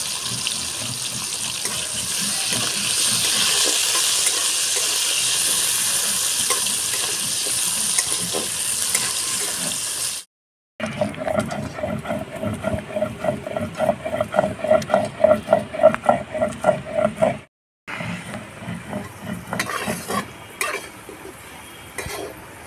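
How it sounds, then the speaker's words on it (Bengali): Potato pieces fry with turmeric in hot oil for a Bengali shukto, giving a dense, steady sizzle that drops out briefly, then returns in pulsing bursts as the pan is worked. "ওই তেলে আলু দিয়ে দিচ্ছি।"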